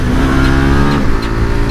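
KTM 890 Duke twin-cylinder motorcycle accelerating, its loud, close engine note rising in a brief gritty burst that shifts pitch slightly partway through.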